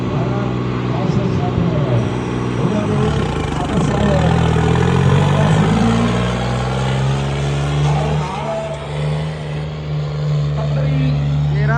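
A tractor engine idles and revs close by at a village gathering, a steady loud mechanical drone with shifting pitch, while people talk over it.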